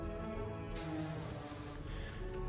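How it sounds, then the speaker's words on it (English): Pressure washer spray blasting steps in the video game PowerWash Simulator 2, a steady close hissing rush that swells and brightens midway, continuous throughout with no talking. "put the extension on to spray the tops of the steps"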